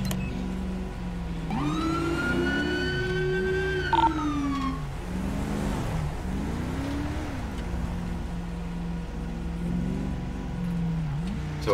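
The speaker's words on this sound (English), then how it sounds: "And if not, I'll have to go back to the regular siren." An emergency vehicle siren in the video game FiveM wails with rising and falling sweeps over a loud engine drone, continuous throughout.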